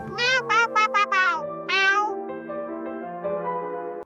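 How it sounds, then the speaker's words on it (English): A domestic cat meows loudly at dawn, about six sharp close calls in quick succession, alone in a quiet room. "To the cat, the loud meow is not random noise."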